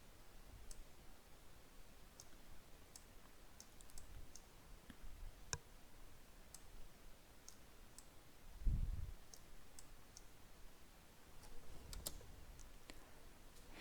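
Sparse, faint clicks of a computer mouse while working in graphics editing software, scattered singly at an irregular pace over a quiet room background, with a couple of soft low thumps.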